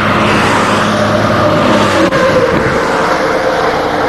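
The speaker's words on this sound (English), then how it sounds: "There is still some truck traffic out here, as you can tell from that passing" A truck passes along a continuously reinforced concrete pavement, a loud continuous engine and tire roar that holds steady and stays close throughout.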